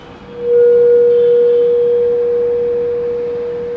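A resonance tube in an air-column experiment gives a loud, steady booming tone that swells in over the first half-second, then holds as one sustained pure note and fades very slightly.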